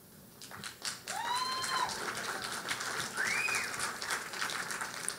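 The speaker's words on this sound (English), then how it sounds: "I assume you're applauding the reporters" Audience applause at an award ceremony for a journalism prize, steady and fairly loud throughout, with a few whistles rising over the clapping crowd.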